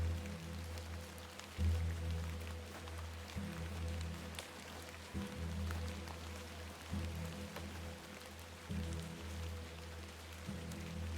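Steady rain in the video game The Excavation of Hob's Barrow patters on a surface without a break, with soft scattered drops over a low droning hum.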